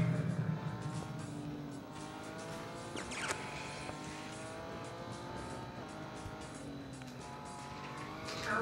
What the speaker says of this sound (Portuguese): O carro sai logo de traseira, véi.